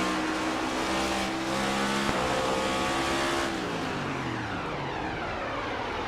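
A race car engine drones at full throttle around Bristol in iRacing, a loud steady high-pitched roar with layered harmonic tones from several cars, one pitch dipping briefly as others hold on.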